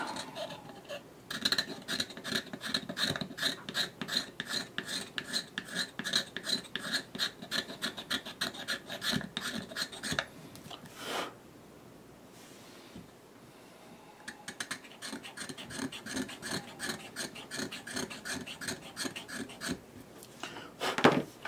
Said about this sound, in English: I'll sand that out with sandpaper